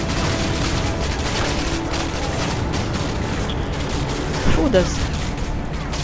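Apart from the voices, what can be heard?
gunfire from video game Call of Duty Modern Warfare 2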